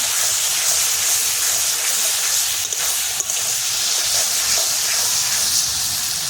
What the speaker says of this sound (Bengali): মশলাটা এবার ভালোভাবে কষিয়ে নেব।